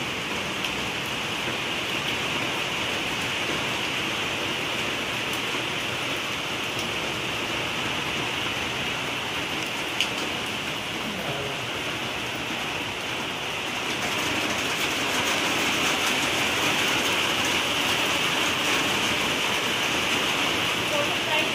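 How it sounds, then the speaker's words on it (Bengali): Steady rain falls in an even, dense hiss, growing slightly heavier partway through, with no other sound rising above the downpour. "তোমরা বৃষ্টি উপভোগ করো,"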